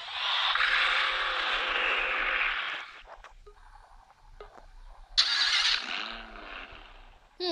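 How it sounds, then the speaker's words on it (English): Lamborghini Huracan engine in the Roblox game Driving Empire: a loud, steady high-pitched roar for about three seconds, a quieter stretch, then a sharp rev burst that fades out. "Sounds like a Huracan, a real life one."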